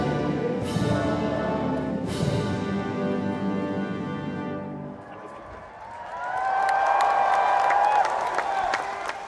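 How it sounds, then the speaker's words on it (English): A crowd outside joins in the British national anthem, then the final sustained chord fades and a loose ripple of applause rises, fairly distant and mixed with crowd murmur. "A spontaneous ripple of applause"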